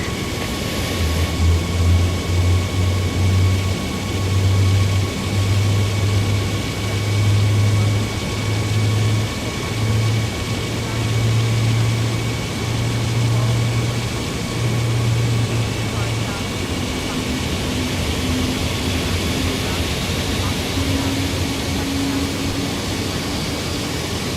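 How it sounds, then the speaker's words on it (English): Airbus A350 engine 1 spooling up during a start in Microsoft Flight Simulator 2024, a steady low turbine drone with a rising hum that holds throughout, heard from the cockpit with faint voice traffic underneath. "Alright, and that is a good start on engine 1."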